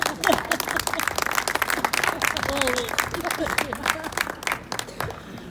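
Applause from an audience at a talk on active ageing in Girona, a lively crackle of many hands that fades gradually toward the end, with brief murmurs and a voice or two beneath it.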